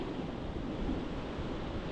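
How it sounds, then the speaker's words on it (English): Strong wind at the beach buffeting the microphone with a low rumbling roar, steady and continuous, surf noise blended underneath and no voices. "It's fucking windy."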